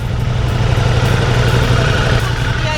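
A Ducati V4 R motorcycle idles at steady revs, a continuous low rumble held close and loud for the whole stretch with no revving or throttle blips.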